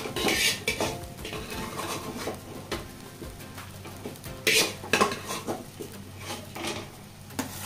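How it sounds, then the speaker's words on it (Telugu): Boiled chicken pieces tossed with spices in a pan, the spoon scraping and clinking against metal in irregular bursts, close and moderately loud, with no talking. "యాడ్ చేసుకున్న తర్వాత బాగా కలుపుకుందాం"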